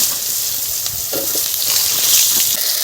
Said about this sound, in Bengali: আমি তেলের উপরে পটলটা দিয়ে দেবো,